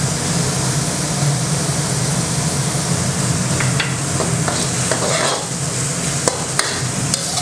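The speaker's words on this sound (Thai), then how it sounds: "ว่าเดี๋ยวเราจะผัดกุ้งให้สุกนะครับ" Shrimp stir-fried over high heat for Thai pad gaprao, a continuous crackling sizzle with occasional sharp clicks of a utensil against the pan, close and fairly loud, with no voices.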